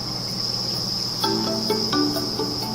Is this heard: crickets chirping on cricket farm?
yes